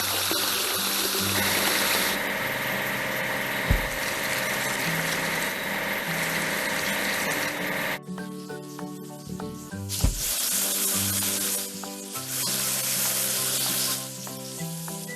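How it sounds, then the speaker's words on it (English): Cartoon water spray washing a track laying machine, a continuous hissing gush with bright watery fizz that shifts character partway through, over light music. "Now let's wash the track laying machine."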